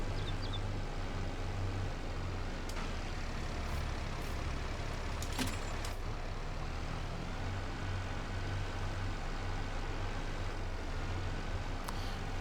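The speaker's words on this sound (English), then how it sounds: "I don't know if I'm going to be able to pull both of these together or not with this tractor" Heavy tractor engine in Farming Simulator 22 straining to pull two trailers, a steady low drone that runs continuously throughout with a few brief clanks and hisses on top.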